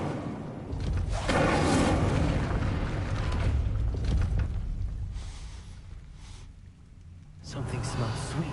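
Casting the Incendio fire spell in a Harry Potter video game unleashes a loud, roaring fiery whoosh that swells for several seconds, dips briefly, then surges again near the end.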